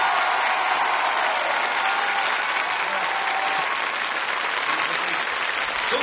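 A theatre audience greets comedian Jean-Marie Bigard with loud, sustained applause, thick even clapping filling the room without a break from start to finish.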